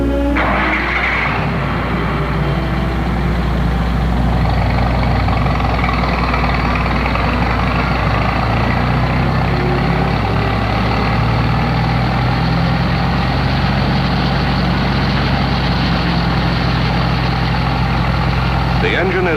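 Oliver XO-121 experimental tractor engine running steadily at rated speed on a dynamometer test stand, belt-driven: a loud, continuous low engine drone with a mid-range rumble that holds even throughout.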